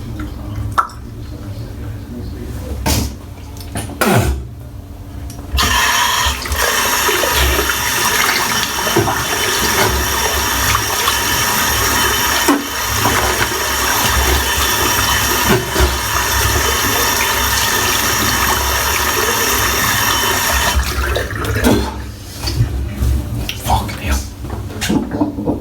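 Water runs steadily from a tap for about fifteen seconds while a shaving brush is rinsed off, a loud close rushing stream with clicks and handling noises before and after it.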